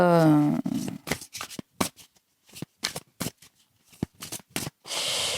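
Tarot cards shuffled and handled during a reading, a string of quick papery riffles and slaps at close range, with a stretch of voice at the start.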